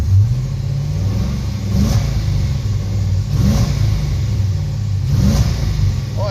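An old car engine pulled from a barn after more than ten years runs rough with bad rings, rattling and smoking, rising in three loud revs over a steady uneven idle, close up.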